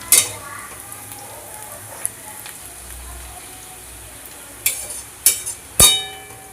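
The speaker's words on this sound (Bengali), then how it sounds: "এবার আমি পেঁয়াজটাকে লাল করে ভেজে নেব" Onions frying in oil until brown, a soft steady sizzle with a few sharp clatters of a utensil near the end.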